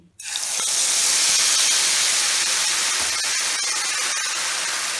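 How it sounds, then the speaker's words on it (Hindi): Malpua batter dropped into hot ghee in a kadai, bursting into a loud, steady, broadband sizzle that starts abruptly and holds for several seconds, close up with no talking. "अब घी का टेम्परेचर बढ़ गया है, हम इसमें दूसरा मालपुआ डालेंगे।"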